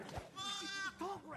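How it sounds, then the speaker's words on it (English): Sheep bleating in the DvG VR game, a couple of drawn-out wavering bleats with strong harmonics, close and clear, with speech underneath. "David, that wolf is taking your sheep to the tall grass."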